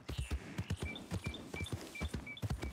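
Horse hooves clip-clop in a steady walking rhythm in Red Dead Redemption 2, close and fairly quiet, with faint chirps in the background and no talking.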